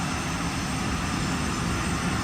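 Steady broadband roar of aircraft engines at an airport, heard from inside the terminal behind glass; a continuous, moderately loud jet and propeller rumble with no talking.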